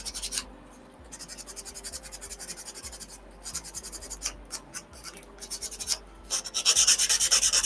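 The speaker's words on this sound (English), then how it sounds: "I'm just going to try to file the edges off a little bit." Rough, rasping strokes of a file worked along the edges of a wooden dowel at close range, coming in irregular bursts that grow faster and louder toward the end.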